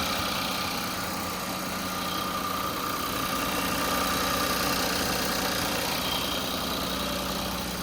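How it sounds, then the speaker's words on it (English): A replaced twin-turbo engine in an Infiniti Q50 idles steadily, a smooth, even hum with a faint vibration, heard close and alone without speech. "Engine sounds good."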